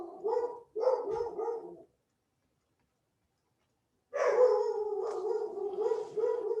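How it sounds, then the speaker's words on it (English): A dog barking and howling nearby, with two loud bursts, then a pause of silence, then a longer drawn-out howling bark, heard alone without talk. "Barking dog, be right back."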